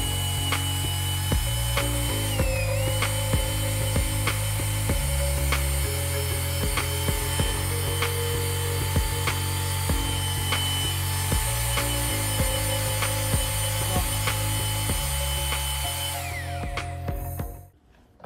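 A long power drill works steadily into heavy soot deposits in a chateau being renovated, a continuous loud whirring with ratcheting clicks and brief pitch shifts, running alone and winding down at the end.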